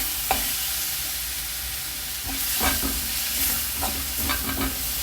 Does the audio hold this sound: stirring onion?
yes